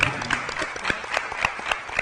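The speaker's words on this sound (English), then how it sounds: "So we'd like to give her a round of applause" Audience at a town hall meeting giving a round of applause, steady scattered clapping from a room of people, fairly close and even throughout.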